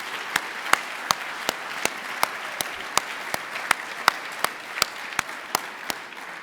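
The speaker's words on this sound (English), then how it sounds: "they deserve a round of applause" Audience applause at an awards banquet for the organising team, sharp evenly spaced claps ringing over a continuous wash of clapping that stays level throughout.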